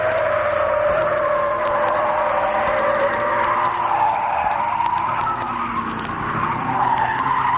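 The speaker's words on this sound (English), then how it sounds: "Listen to the Kingswood brake to take it at an incredible 50 miles an hour" Tires squeal continuously as a 1971 HQ Holden Kingswood brakes hard into a corner at about 50 mph, a loud sustained screech over engine noise lasting several seconds.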